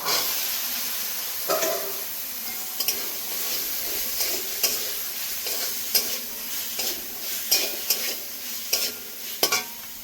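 Taro and potatoes are stirred into fried spice paste in a pan, with steady sizzling and a run of sharp spatula scrapes and knocks that come faster toward the end, close and without voices.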